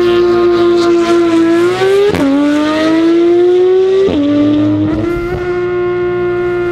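A race car engine in a racing video game wails at high, steady revs, its pitch climbing and dropping sharply at two gear shifts, loud and continuous with no talk.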